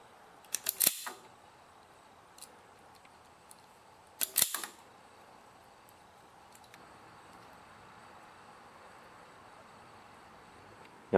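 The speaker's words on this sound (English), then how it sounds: "now with these nice wire strippers, I'm going to strip a bit of the insulation off the wire" Wire strippers bite through and pull insulation off a wire during lawn tractor repair work, giving two sharp, close snapping clicks a few seconds apart against a quiet background.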